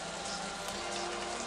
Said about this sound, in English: Well, then again, it always rains here,